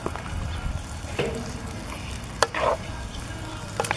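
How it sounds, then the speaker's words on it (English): Baked beans and sausage in barbecue sauce stirred in a pot, soft wet scraping and bubbling with a few sharper clinks of the spoon against the pot, close and fairly quiet. "Let's give it a little stir."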